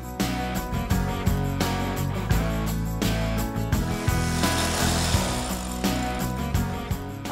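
A power drill bores holes for underfloor heating pipes leading to the manifold, a loud, continuous grinding with repeated rattling knocks and jolts, heard up close.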